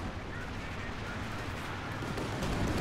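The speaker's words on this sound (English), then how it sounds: "Artillery's now opening fire on that position." Artillery barrage in a Company of Heroes 2 battle: dense, continuous rumbling booms and gunfire layered throughout, steady and loud from start to finish.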